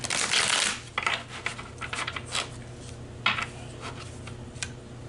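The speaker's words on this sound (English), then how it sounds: "Let me keep on shuffling" Tarot cards are shuffled by hand at close range in repeated papery riffles and taps, with bursts of varying length and brief pauses in between.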